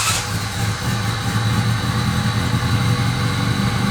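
A Honda Civic engine with a P06 ECU idles high, a loud continuous mid-pitched drone that holds steady throughout as the idle slowly creeps upward.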